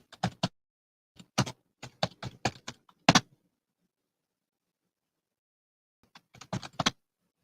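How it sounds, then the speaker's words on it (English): Computer keyboard keys tapped in quick bursts, a cluster of sharp clicks, a pause of nearly three seconds, then another short flurry; close and fairly quiet, with no talking. "Typing it in on another screen I'm looking over."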